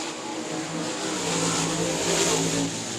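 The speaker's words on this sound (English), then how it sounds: "ASCS Gulf South Region Sprint Cars getting ready to go for their 2nd heat race of the night" ASCS Gulf South Region sprint cars at South Texas Speedway roar together as they pull away for a heat race. A dense, loud engine drone swells slightly at mid-point, and no voices are heard.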